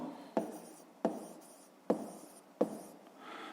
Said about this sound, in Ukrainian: Записуємо тоді. Пишемо.